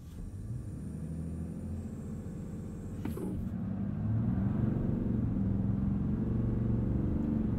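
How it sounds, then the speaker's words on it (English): A 2020 Ram 2500 heavy-duty pickup launches with traction control off, its engine a steady loud rumble that swells and deepens after a brief sharp burst, staying close and continuous throughout. "let's turn traction control off, brake torque this thing, and launch it."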